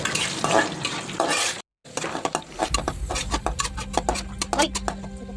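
Cashews and raisins fry in hot oil in a pan, giving a steady sizzle with a string of sharp stirring clinks and scrapes after a brief gap, and some talk early on.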